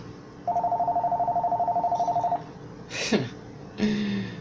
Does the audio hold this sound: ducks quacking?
no